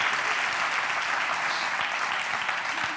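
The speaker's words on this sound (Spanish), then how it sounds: "un aplauso para Andrés Llena" An audience at an event claps for Andrés Llena, a full, sustained round of applause at an even, fairly loud level from start to finish with no speech over it.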